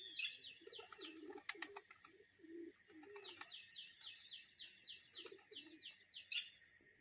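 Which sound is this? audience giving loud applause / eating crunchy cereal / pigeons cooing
pigeons cooing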